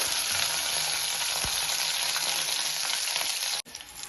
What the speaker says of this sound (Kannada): ಇದು ತುಂಬಾ ಫ್ರೈ ಆಗಿದೆ ಈ ಮೆಣಸಿಕಾಯಿ